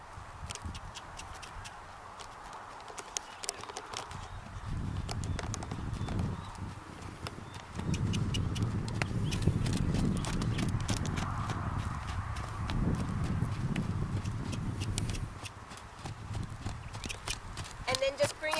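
A horse being lunged trots with steady, rhythmic hoof clip-clops throughout, while a person talks over it at moderate distance and low rumbling noise fills the background.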